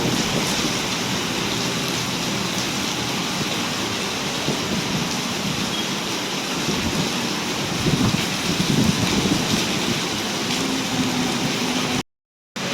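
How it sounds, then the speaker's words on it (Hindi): Heavy rain pours down near a station in a dense, constant roar, with gusty wind mixed in, loud and close throughout before a brief cut near the end. "बहुत तेज़ बारिश है, हवा भी चल रही है, बारिश भी है।"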